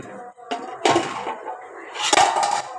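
A cooking pot of lentils for sambar, sprinkled with asafoetida, is opened with metallic clanks and a lid clatter in a few close bursts, with no talking.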